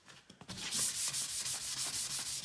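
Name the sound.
sanding furniture details to distress the finish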